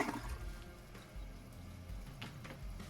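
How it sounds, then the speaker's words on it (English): A newly replaced toilet flushes and then refills its tank, giving a continuous, moderately loud rush and gurgle of water with no voices over it. "First flush."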